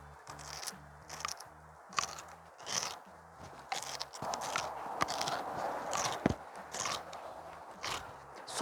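Crisp, crunchy bites and scraping as a raw homegrown kimchi radish from a weekend farm plot is peeled and bitten into, repeated crunches close up over low background rumble and faint chatter.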